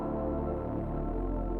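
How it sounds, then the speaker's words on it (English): A low, thick Reese bass synth in FL Studio holds a sustained note with a warbling, detuned buzz, shifting slightly lower partway through. "This is a Reese bass."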